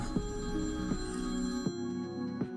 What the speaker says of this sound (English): I heard the phone ring somewhere